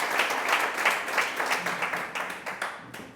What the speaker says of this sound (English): please give him a round of applause for being here as well.